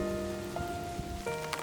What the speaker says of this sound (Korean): 짙은 초록빛 잎사귀 위로 톡톡 떨어지는 빗방울들